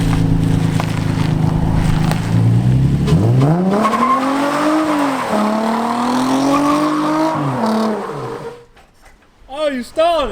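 A car engine revs up and holds a rising note, then abruptly stalls and cuts out, followed by a few short sputters; a voice is heard nearby.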